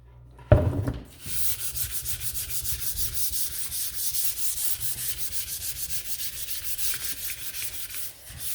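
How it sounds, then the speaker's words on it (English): Sandpaper rubs in steady, rhythmic strokes along the edges of a wooden sign, distressing the wood with a close, scratchy sound after a brief initial knock. "if you wanna distress the edges a little bit, you can kind of just run your sandpaper around there."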